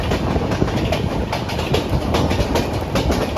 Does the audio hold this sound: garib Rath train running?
yes